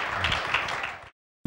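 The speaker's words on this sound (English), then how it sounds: "Clap your hands some more for Jesus." Church congregation clapping hands during a worship service, a short burst of dense applause that cuts to silence before a brief tone.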